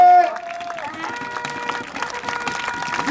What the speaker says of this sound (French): On peut applaudir les Magus,